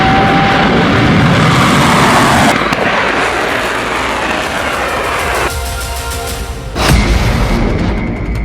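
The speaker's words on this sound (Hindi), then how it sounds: "जब दोनों हथियार नाकाम हो गए तो इसके बाद इजराइल पर सबसे खतरनाक मिसाइल लॉन्च" A missile launch fired by Yemen's Houthi forces toward Israel, a loud, continuous rushing roar with booming bursts and abrupt shifts in tone.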